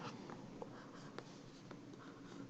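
During a Korean math lecture on combinations and the binomial theorem, a pen or chalk writes on a board, giving faint scratchy strokes and small taps over a steady room hiss.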